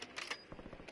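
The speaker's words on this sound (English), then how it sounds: "Loading new mag." Quick mechanical clicks and clacks of a magazine reload in the Warzone video game, a short close run of sharp taps with no talk.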